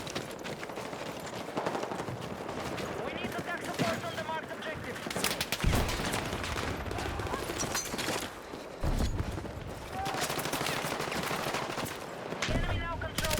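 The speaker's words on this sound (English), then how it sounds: "That guy's shooting at me." Bursts of automatic gunfire from a Battlefield 6 multiplayer match crackle repeatedly, some near and some distant, mixed with game effects and occasional talk.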